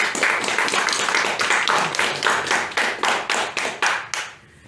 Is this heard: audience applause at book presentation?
yes